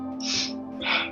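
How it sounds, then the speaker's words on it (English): Two sharp, forceful breaths through the nose in a kundalini yoga kriya, close and quick in succession, each a short rushing hiss over a steady low hum. "you're going to inhale left, exhale right."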